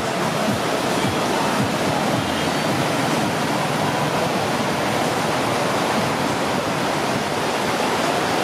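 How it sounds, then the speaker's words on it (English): Big ocean waves breaking on a Mazatlan beach make a continuous, loud wash of surf, a steady broadband roar with no pauses and no voices. "There's some pretty big waves here."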